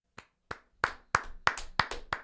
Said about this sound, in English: the guys are clapping for me, and it's very nice of them